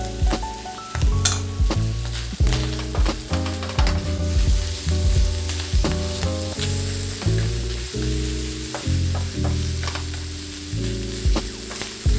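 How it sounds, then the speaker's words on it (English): Ginger, garlic, peppers and onions sauté in a pan with steady loud sizzling, plus clinks and scrapes of stirring throughout, close up and with no voices. "I'm going to saute that for about a minute or so till things are nice and fragrant."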